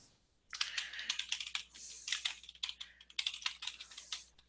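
Fast typing on a computer keyboard, a dense run of clicking keystrokes that starts after a brief pause and keeps going at an irregular pace with short gaps, close and clear, with no voices over it.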